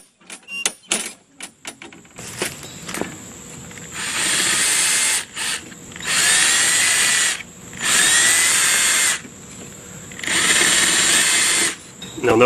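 A power drill whirs in several loud bursts, biting through metal with a harsh, hissing whine, while making a cup holder for a push mower outdoors, after some clicks and handling noises at the start.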